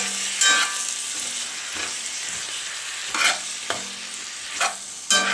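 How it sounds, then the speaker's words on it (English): Canned artichoke hearts being stirred into a pasta sauce in a pan, with a soft steady sizzle beneath occasional scraping and clacking strokes of the spoon. "Then in comes the can of artichoke hearts. Again, we mix that in and let it get happy."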